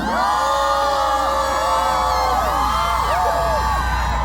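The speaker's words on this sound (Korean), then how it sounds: "그럼 함성 한번 질러보세요." A concert audience at the Gwangju Kimchi Festival's Hello Concert cheers and shouts continuously, with high whoops and screams rising over a dense, loud crowd roar.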